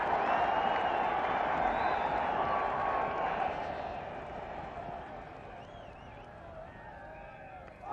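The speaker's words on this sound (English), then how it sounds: "Crowd are going absolutely mad, the Indian camp over on the far side" A large cricket crowd at a 1983 World Cup semi-final between England and India roars after a wicket, a loud sustained wash of cheering that slowly fades while commentary runs over it.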